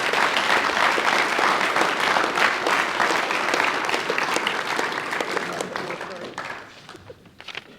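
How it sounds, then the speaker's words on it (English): Applause for the sponsors of a combined first XV school rugby team at its naming event, a full crowd clapping loudly at first, then thinning and fading toward the end with some voices underneath. "So can everyone just give them a round of applause and take note of those names?"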